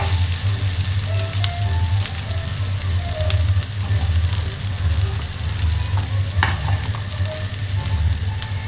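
Ingredients sizzle steadily in melted butter in a pan while shrimp are being cooked, a continuous close frying hiss with small pops and crackles and no talking.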